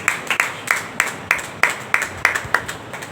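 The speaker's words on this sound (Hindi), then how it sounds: "सब लोग ताली बजा के परमेश्वर को महिमा करें" A church congregation at a Sunday service claps hands together in a steady, rhythmic beat, with about nine sharp group claps sounding close and fairly loud.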